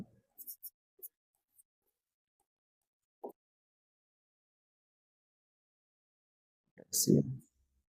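A marker or chalk on a classroom board writing chemistry notes, heard as a few short, sparse scratches and taps, with a brief burst of a teacher's voice near the end.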